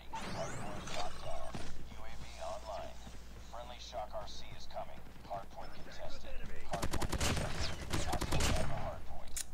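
Rapid bursts of automatic gunfire from a mobile first-person shooter, COD Mobile, crackling loud and close through much of the stretch and densest toward the end, with a player talking over the shooting.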